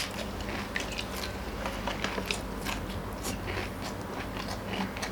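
Crispy squid served with spicy fermented-fish dressing gives repeated crunchy bites and chewing, close up over a steady background hiss.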